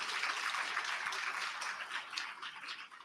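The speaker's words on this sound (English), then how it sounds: "Let's give her a round of applause." Applause from an audience at a ceremony marking the International Day for the Elimination of Violence against Women, steady dense clapping with no break, fairly faint and distant.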